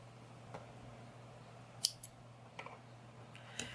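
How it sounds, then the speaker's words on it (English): Scissors snip through yarn during crochet work, giving a few faint, crisp, separate cuts spread over a few seconds in a quiet room. "you can cut off your yarn to change colors"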